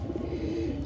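Domestic pigeon in a Hindi-speaking flying-pigeon loft cooing low and steadily, a soft continuous murmur close by with no talk over it.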